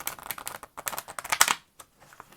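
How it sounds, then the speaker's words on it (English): Tarot cards are shuffled by hand close up, giving rapid papery riffling and flicking bursts that come in quick irregular clusters, then thin out into a few lighter taps. "I'm shuffling on camera for y'all extra"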